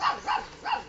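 Puppy barking, three short high yelps in quick succession, fairly faint and isolated with no talking.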